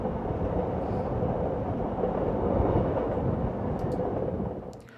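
Steady, dense rumble of a train rolling along in the video game Heart of the Woods, loud and continuous for the whole stretch with a faint high clatter near the end, no voices.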